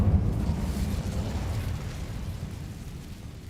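A low, rumbling fiery whoosh of the Incendio fire spell in Hogwarts Legacy, starting with a heavy burst and then gradually fading as a roaring flame rumble.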